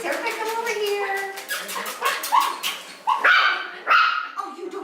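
Six-week-old puppies bark, yip and whimper in quick high-pitched bursts close by, several little voices overlapping, while a person talks to them.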